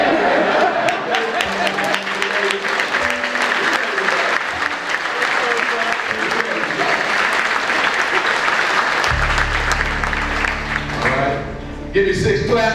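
Loud crowd applause at a Commanders team welcome-home gathering, dense and sustained for the whole stretch with music and voices mixed in; no distinct count of six separate claps stands out.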